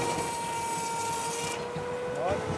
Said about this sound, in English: This is timber sawing Edwardian style.